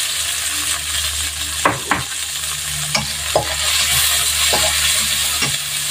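Onion and tomato stir-frying in a pan for a pork and eggplant dish, a steady close sizzle with several sharp scraping stirs of a utensil against the pan, no talking.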